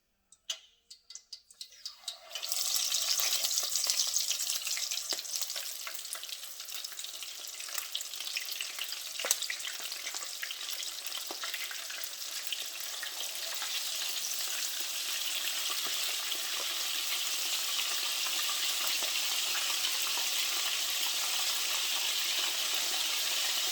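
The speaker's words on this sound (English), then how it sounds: "our oil is hot and ready, so now I'm gonna go ahead and just get the shrimp put in" Shrimp dropped into hot oil for Bang Bang Shrimp, a few quiet knocks and then a loud, sudden, sustained hiss of frying that stays steady and close with small crackles throughout.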